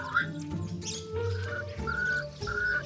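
A Swainson's francolin gives a series of loud, harsh rising calls, repeated in rhythmic bursts near the listener, with some faint background rustling.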